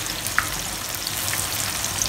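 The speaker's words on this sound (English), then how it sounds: "I'm frying this tofu at medium heat" Tofu deep frying in hot oil over medium heat, a steady close sizzle and crackle with scattered small pops, continuous throughout and without any voices.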